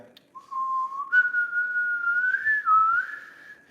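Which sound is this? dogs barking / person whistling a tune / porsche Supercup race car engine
person whistling a tune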